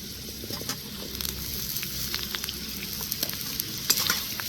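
Drumstick stalks tossed into a pan of browned onions sizzle steadily while being stirred, with soft scraping and crackling frying noise throughout, no voices.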